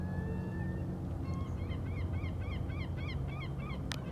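A gull gives a series of short, repeated calls at a steady rhythm over a snowy outdoor setting with low background rumble, moderately distant.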